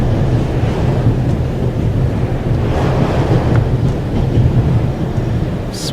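Steady rumble of a train carriage in motion, set in the video game The Raven - Legacy of a Master Thief; a loud, continuous low roar with wind-like rushing holds throughout, with no speech.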